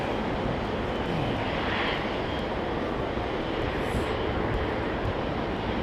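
A United Boeing 787-9 Dreamliner airliner roars at London Heathrow, a broad, steady jet engine rumble that fills the scene at close range without any voices.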